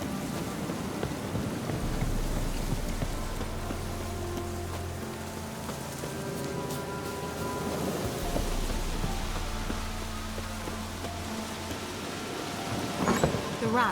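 Steady rain hisses throughout with low rumbles of thunder rolling underneath in the video game The Witcher 3, and a brief sharper crackle near the end.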